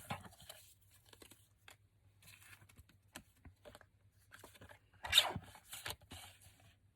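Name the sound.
cutting paper scraps for a card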